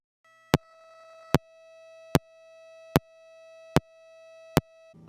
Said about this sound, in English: you can see and hear that the click is being output right at the beginning of each cycle on the EDP